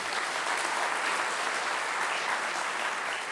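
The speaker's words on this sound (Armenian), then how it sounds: "առաջարկում եմ ևս մեկ անգամ ծափահարենք" An audience at a university alumni forum applauds, a dense, even roar of many hands clapping together, steady and sustained for several seconds, heard alone without speech.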